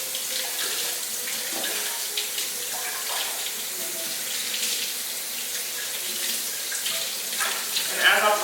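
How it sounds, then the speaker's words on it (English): Tap water runs steadily from a faucet while a Rose of Jericho plant is rinsed beneath it, giving a continuous splashing hiss with small shifts as the plant moves under the stream. "So I just take her and I just rinse her under the faucet, clean her out under the faucet."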